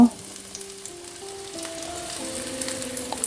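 Mustard seeds, shallots and curry leaves frying in hot oil for a tempering, a sharp initial burst settling into a steady crackling sizzle with light popping, close and moderately loud, no voice.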